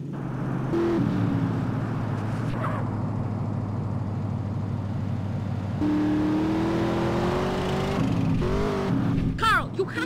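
Car engine in GTA San Andreas humming and revving as the vehicle drives, with shifting engine tones and voices talking over it.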